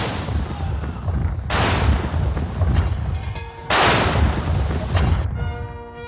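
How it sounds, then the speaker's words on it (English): Ceremonial 41-gun artillery salute fired by the Honourable Artillery Company from the wharf of the Tower of London, London: two loud booming reports with long rolling echoes over steady outdoor background noise. "From the wharf of the Tower of London, the Honourable Artillery Company is firing a 41-gun salute."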